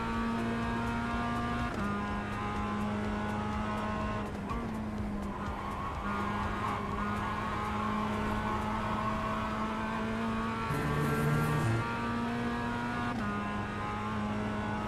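A Mazda MX-5 engine in a sim racing video game, a continuous buzzing drone that holds steady, dips briefly on gear shifts and climbs again, with faint tyre noise underneath.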